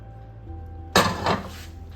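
After a quiet moment, thick shepherd's pie mixture plops into a 9x13 baking dish with a sharp clunk, followed by a second softer thud.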